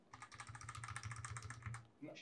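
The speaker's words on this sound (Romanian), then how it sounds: "și tastatura Trust stock" A stock Trust computer keyboard typed on rapidly, a dense run of close clicky keystrokes that ends in a final clack, with a low voice murmuring underneath.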